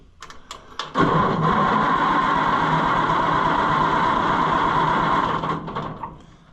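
An old tractor's starter motor cranks the engine steadily for about five seconds without it firing, loud and close, with a few clicks before and after.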